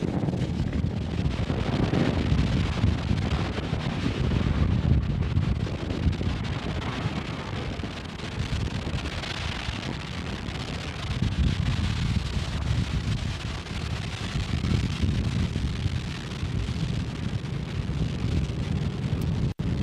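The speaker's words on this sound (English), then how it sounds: "Falcon 9 and Cygnus take flight." A SpaceX Falcon 9 carrying a Cygnus cargo craft lifts off from Space Launch Complex 40, a sustained deep rumbling roar mixed with wind buffeting that holds steady and heavy for the whole stretch, with no voices.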